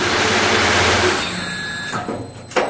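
A Corghi Master 26 tyre changer's two-speed motor whirs loudly with a steady mechanical tone, then spins down and stops, followed by a couple of short clunks.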